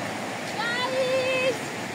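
A river flows steadily with a continuous rushing, gurgling murmur, fairly close and even in loudness, with a few thin whistling tones drifting over the water noise.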